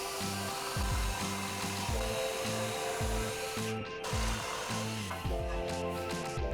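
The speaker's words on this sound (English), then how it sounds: "drilling down the rather large hole here with the drill" A power drill bores a large hinge hole into a hardwood counter-top through a jig, grinding in repeated pulsing bursts as the bit works in and out, close and loud with no talking.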